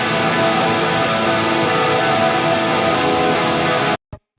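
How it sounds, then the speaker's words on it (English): Layered distorted rock guitar parts from a production mix of a song play together as a dense, loud sustained wall of sound, cutting off abruptly near the end. "But you add that all in, all the guitars sound like this."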